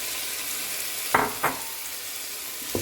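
Bell pepper and tomatoes sautéing in a pan, a steady broadband sizzle with two brief stirring clatters near the middle and another at the end, close and moderately loud, no voices.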